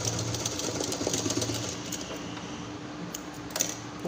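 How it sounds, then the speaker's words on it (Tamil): A sewing machine stitches a fabric school pencil pouch, a steady mechanical whirr running throughout at moderate level with a few small clicks near the end. "இன்னொரு தையல் போட்டுக்கலாம்."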